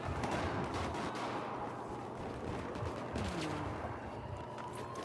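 Video game battle with steady distant gunfire: scattered shots and bursts crackle over a dense, constant layer of combat noise, fairly faint and continuous throughout.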